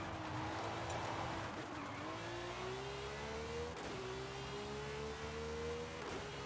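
A car in Forza Horizon 5 drives with a steady engine drone that shifts pitch through gear changes, with tire squeal and skidding running under it and no talk.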